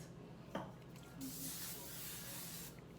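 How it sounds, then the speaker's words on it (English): Hair product hisses out of a spray can in a soft, steady burst while hair is being curled with a wand, faint and close, following a brief tap. "Little spray."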